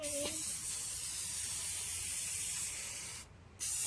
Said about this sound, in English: Come on. Spray paint.